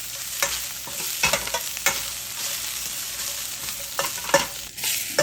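Thick-cut onion and garlic stir-frying in a hot pan for a steak stir fry, a steady close sizzle broken by scraping stirs and clatter of the spatula at irregular intervals.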